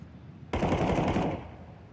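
MAC-10 submachine gun fire in a Counter-Strike 2 esports match, a single fast burst of rapid automatic shots lasting under a second, loud and close, with no talk over it.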